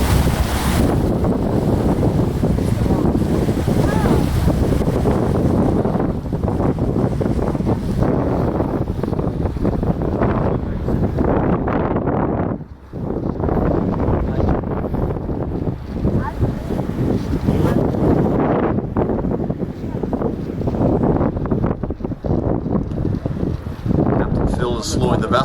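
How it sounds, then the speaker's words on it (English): Strong wind gusts buffet the microphone throughout a tour boat ride on a lake in Waterton National Park, loud and continuous, with engine and water noise beneath and a guide talking over it. "Although with these wind gusts,"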